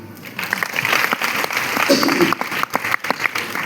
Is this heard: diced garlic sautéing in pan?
no